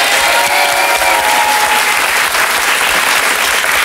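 A French television talk-show studio audience applauds loudly and steadily, a dense continuous wash of clapping that holds at full strength from start to finish.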